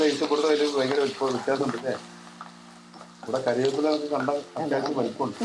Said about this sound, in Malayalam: നമുക്ക് ഇതിന്റെ കൂടെ തേങ്ങയും കൂടെ കുറച്ച് വറക്കാം.